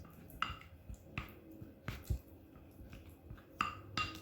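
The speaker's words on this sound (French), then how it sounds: "Il faut vraiment bien mélanger pour obtenir une bonne pâte homogène." A spoon scrapes and clinks against a bowl while a homemade anti-wrinkle face mask paste is stirred, quiet irregular taps and soft scraping strokes close up, with no talking.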